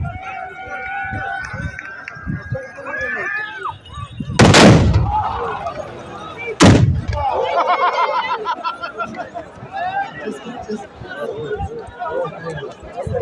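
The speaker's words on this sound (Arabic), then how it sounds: "الطلقة الثالثة والأخيرة" A tbourida black powder musket volley at a traditional equestrian contest, heard as two loud booming blasts a couple of seconds apart over galloping hooves, crowd chatter and an announcer's voice.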